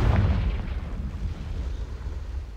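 A Confringo spell explodes in Hogwarts Legacy, a loud deep boom at the start that trails off into a rumbling, crackling decay lasting a couple of seconds.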